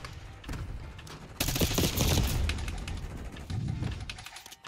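Rapid crackling pops and bangs burst out in a dense flurry, like fireworks going off outdoors at a moderate distance.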